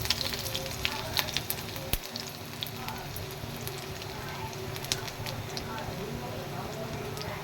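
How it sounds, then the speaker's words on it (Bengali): Garlic sizzles in hot oil with cumin seeds, dried red chilli and bay leaf for an egg tarka, a steady close crackle with occasional stirring clicks and a voice talking over it. "তারপর আমি দিয়ে দিচ্ছি রসুনটা"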